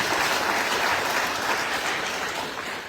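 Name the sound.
audience applause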